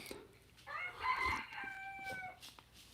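A rooster crows once in a long, strained call lasting over a second, fairly close, with faint background noise and no talking.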